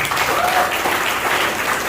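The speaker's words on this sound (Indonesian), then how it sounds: "Tepuk tangan buat SSJ." Brief burst of steady audience applause at a talk, dense clapping filling the room for a couple of seconds with little else over it.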